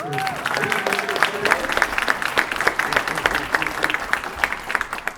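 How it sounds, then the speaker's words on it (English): A round of applause from the audience at a city public budget hearing, steady, fairly loud clapping from many hands throughout, with a voice briefly audible at the start. "let's give a round of applause to Andrea Vu"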